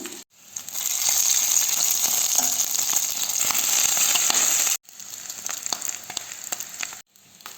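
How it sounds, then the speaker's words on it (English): Chicken pieces sizzle and crackle steadily in a hot pan, a dense frying hiss with brief pauses and occasional clicks, close and fairly loud. "I'm browning the chicken thighs into chicken oil."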